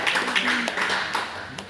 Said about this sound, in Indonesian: Iya, tepuk tangan dulu, mana tepuk tangan.